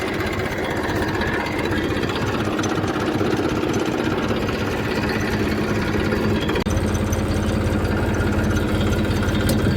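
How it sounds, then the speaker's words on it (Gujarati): A tractor ploughing a field after recent rain runs with a loud, close, steady diesel chug and low rumble, its pitch and texture shifting partway through as the load changes; no voices. "તો મિત્રો આપણે ચાલુ કરી દીધું છે ટ્રેક્ટર, ખેડવાનું ચાલુ કરી દીધું છે."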